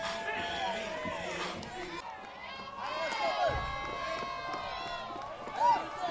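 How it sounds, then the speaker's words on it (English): A softball stadium crowd at an NCAA LSU versus Ole Miss game cheers loudly and continuously, with a commentator's voice running over the roar. "the crowd is really into it"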